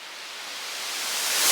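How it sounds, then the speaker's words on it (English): A white noise riser in a house remix hisses as a bright, steadily building wash of noise that grows louder and sharper over a second and a half, heard alone. "I also added the white noise riser,"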